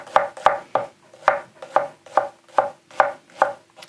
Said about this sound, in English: So we can do a little bit of push cut here.